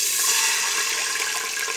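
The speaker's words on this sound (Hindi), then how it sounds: "इस हींग डालने के बाद हम इसमें पानी डालेंगे।" Water pours steadily into a cooking pot already holding asafoetida, a short continuous splashing rush close by, while Kashmiri greens are being prepared.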